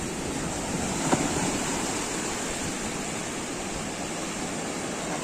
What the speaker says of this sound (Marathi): पाणी लाटव भरपूर आहे आता.